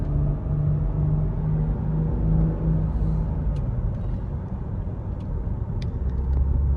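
Mercedes S600 twin-turbo V12 engine with a misfire, held at full throttle: a steady, loud, low rumbling drone with a shifting tone and a few faint clicks, and no talking.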